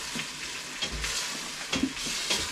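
Chicken and peas pilau cooks in a covered pot, giving a quiet, steady sizzle and frying hiss with a few soft bubbling pops, alone without talk.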